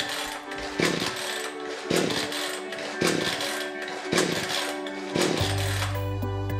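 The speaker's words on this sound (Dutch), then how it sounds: "We verzuipen onze kettingzaag bewust door flink te blijven doorstarten met de choke er nog op" A chainsaw with its choke on is pull-started again and again, about five sharp pulls at an even pace, each giving a brief mechanical burst that never catches into running, flooding the engine.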